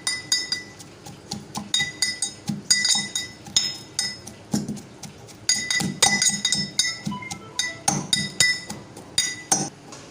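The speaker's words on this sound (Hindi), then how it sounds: "तो इसलिए जो हम इसको इस कुंडी में करेंगे हैंड दस्ते के साथ" A hand pestle pounding cooked chicken and lentils for shami kebabs in a mortar, making steady, rhythmic clinking thuds in quick bursts with short pauses, loud and close, with no one talking.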